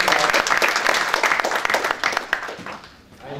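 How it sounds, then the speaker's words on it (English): An audience at a start-up financing panel discussion claps for the program director, a dense burst of applause that thins out and fades near the end. "Round of applause for the program director."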